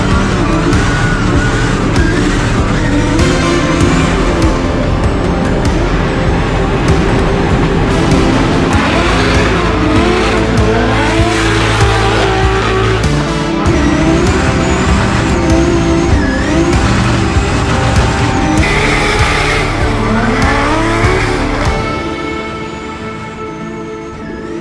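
A drift car at night practice for Drift Masters Hungary roars at full throttle without a break, its engine note rising and falling over sustained tire squeal and skidding, loud and close, easing off slightly at the very end.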